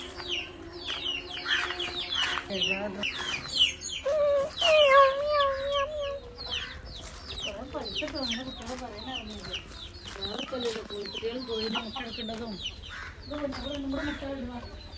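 Hens cluck and cackle repeatedly nearby, a busy chorus of fowl calls with people talking over them.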